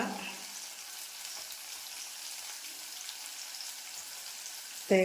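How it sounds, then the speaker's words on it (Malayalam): Okra fries in a pan with a steady, faint sizzling hiss that continues without a break, followed by a short knock at the very end. "നമ്മുടെ വെണ്ട ഇവിടെ കിടന്ന് മൂക്കട്ടെ"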